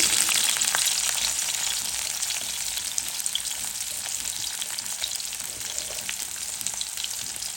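Onions sizzle in hot oil in a wok (kadai) for papaya and carrot bhaji, the oil reused from frying potatoes. A steady, crackling sizzle with scattered pops continues throughout, with no voices.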